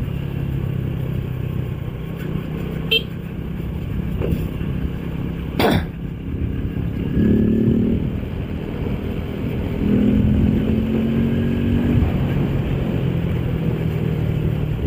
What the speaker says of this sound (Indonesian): gua masih bisa dengar suara motor gua sendiri